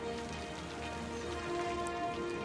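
Soft, steady rain falls in the city-building game Cities: Skylines, a faint continuous patter with a low ambient hum underneath and no voices.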